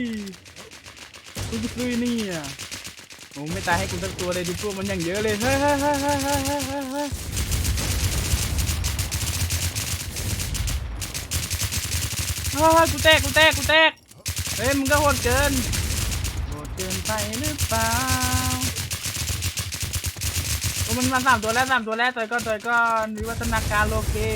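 Gunfire in the online survival game WarZ, rapid bursts of shots over a busy game soundtrack while someone talks excitedly almost throughout, the shots blending into dense layered noise.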